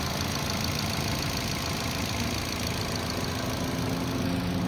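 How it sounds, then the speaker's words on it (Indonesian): A car engine idles steadily close by, a continuous even rumble with a regular rhythm and no talking over it. "Bisa didengar suara mesinnya, iramanya teratur, nggak ada yang macam-macam pokoknya"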